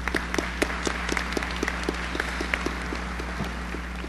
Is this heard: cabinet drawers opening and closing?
no